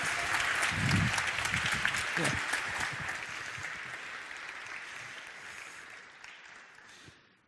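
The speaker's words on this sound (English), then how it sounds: "Big applause for Martin." Audience applause at a tech summit talk on medicine and technology for disabled people, broad clapping that starts loud with a brief voice in it and slowly fades over about seven seconds.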